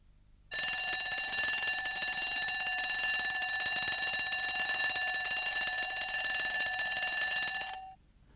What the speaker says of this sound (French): Le réveil, est-ce qu'il marche?